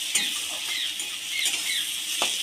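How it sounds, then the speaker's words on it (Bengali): Chopped onions fry in hot oil until light brown, a close, steady sizzle with occasional scraping stirs of a spoon in the pan. "পেঁয়াজগুলো হালকা বাদামি টাইপের ভেজে নেব"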